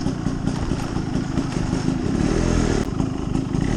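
A Hero Xpulse 200 motorcycle riding an off-road trail, its engine droning loud and steady throughout with some clattering, close up and without talk.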